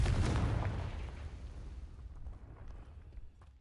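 A Confringo spell explosion in the Hogwarts Legacy video game opens with a loud, deep blast, then rumbles and fades over several seconds with a few faint crackles.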